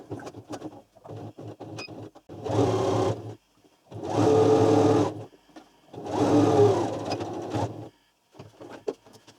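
A sewing machine stitches the wedge seams of a fabric beret in three steady motor bursts, each a couple of seconds long, separated by quieter rustling and handling of cloth.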